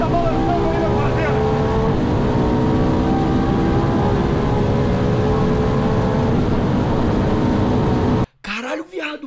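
A Ferrari LaFerrari engine revved hard at full throttle, a loud continuous high-pitched wail with rising and falling harmonics held for about eight seconds before cutting off, followed by excited shouting voices.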